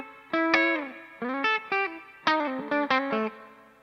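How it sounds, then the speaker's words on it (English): Electric guitar notes and short chords played through a Sonicake multi-effects pedal's reverb, each phrase ringing out and trailing off into a lingering wash. "So I'm going to assume that the reverb is the same."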